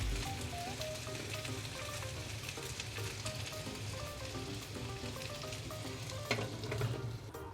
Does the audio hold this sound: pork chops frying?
yes